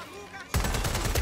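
Rapid gunfire from the video game Watch Dogs Legion breaks out abruptly after a quiet moment, a loud burst of repeated shots with heavy low thumps continuing to the end.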